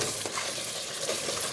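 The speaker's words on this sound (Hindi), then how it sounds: "इसे हम अच्छे से मिक्स कर लेंगे।" Spices being stirred into chicken in a frying pan for chicken biryani, with a steady close sizzle of frying under continuous scraping and stirring for under two seconds, no voices.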